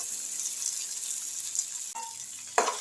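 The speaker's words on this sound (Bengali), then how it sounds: "প্রায় 2 মিনিট আমি টমেটো ফোড়ন সব ভেজে নিলাম" Tomatoes with tempering spices frying in a pan, a steady close sizzle throughout with a couple of brief clatters near the end.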